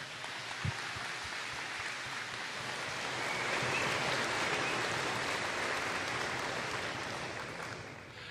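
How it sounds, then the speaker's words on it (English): A school gym audience at a Veterans Day assembly applauds a speaker, a soft, even wash of many hands clapping that swells in the middle and tapers off. "Let's give Mr. Hughes one more round of applause for speaking here today"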